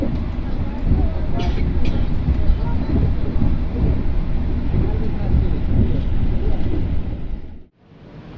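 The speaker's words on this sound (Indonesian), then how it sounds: "Kereta api Ranggajati masuk stasiun Gombong" A Ranggajati passenger train rumbles into Gombong station, heard from inside as a loud steady roar of wheels and wind that drops away abruptly near the end.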